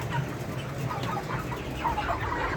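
Ross broiler chickens, about 40 days old, cluck softly in a noisy barn-like setting, low steady murmur of fowl throughout with a few brief higher calls.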